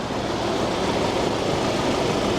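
A square body Chevy's 2.0 liter four-cylinder engine runs at a steady idle, heard up close as an even, continuous rumble with no one talking over it.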